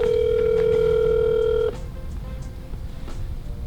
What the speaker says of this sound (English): We're gonna give him a call right now, let him know that he won